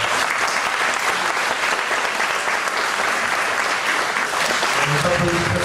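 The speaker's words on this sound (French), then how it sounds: "On nous applaudit très fort, vraiment très fort." Loud, sustained applause from an audience at a stage show, dense clapping filling the whole stretch without a break.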